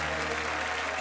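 Studio audience applauding on a French Christmas television game show, a dense, steady wash of clapping heard fairly faintly through the whole moment.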